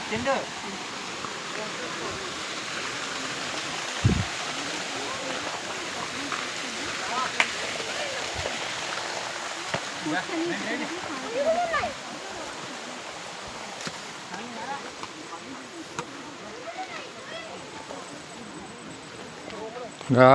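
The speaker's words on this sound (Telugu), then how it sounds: "water falls" A waterfall's broad, constant rushing roar fills the scene without a break, with a few brief knocks and faint sounds over the top.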